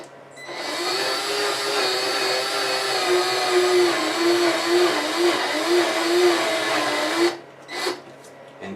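A power drill boring a hole through a plastic junction box, its motor whining in a steady, loud drone for about seven seconds before cutting off, followed by a few brief clicks.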